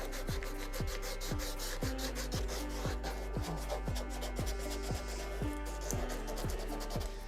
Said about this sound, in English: And yes, this is sanding end grain,